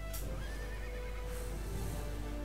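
A horse neighs and whinnies in the video game Paladins, a loud close call rising and falling over about a second, with game background noise running underneath and a second faint whinny near the end.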